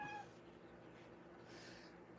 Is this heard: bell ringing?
no